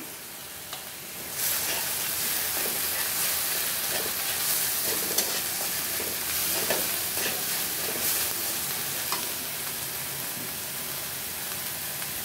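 Green chili paste and turmeric hit the hot oil left from frying fish, giving a loud, steady sizzle close by, with occasional stirring scrapes against the pan throughout.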